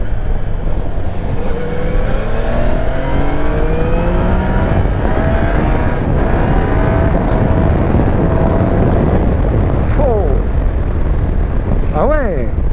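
A Yamaha Niken 900 three-wheeled motorcycle accelerates hard with quickshifter gear changes, its engine note climbing in loud rising sweeps close to the microphone over steady wind rush; a voice speaks over it.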